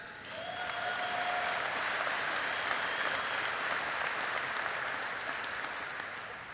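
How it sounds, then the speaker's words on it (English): A large convention crowd applauds steadily, a dense wash of clapping that swells quickly and holds, with a few distant cheers mixed in. "you can clap for that"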